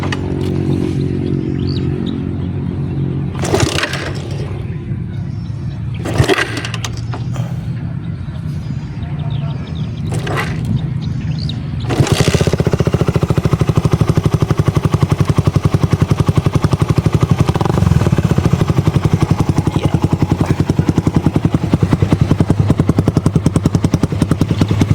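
A Suzuki Raider 150 motorcycle is kicked over several times, each kick a sharp scraping burst over a low idle, until the engine settles into a loud, steady, even running note for the rest of the clip.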